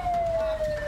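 A loud, steady wailing emergency siren from an ambulance stuck at a road blockade set up by protesting truck drivers, holding a sustained tone in the foreground with road noise beneath.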